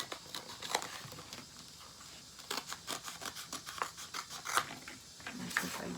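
Scissors cutting through gray craft material in a run of quick, crisp snips, some clustered and some spaced, fairly faint and close with no talking.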